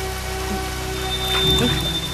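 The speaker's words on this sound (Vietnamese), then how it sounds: "Đang nắng chang chang tự nhiên mưa làm sao?" A sudden rain shower breaks out in a Vietnamese folk-tale drama scene, a steady patter of rain on surfaces that swells louder midway through, with no voices over it.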